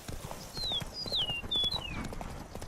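Hoofbeats of Roach, the horse in The Witcher 3, clop in a steady rhythm at moderate loudness, while high whistling bird-like tones sweep over the top.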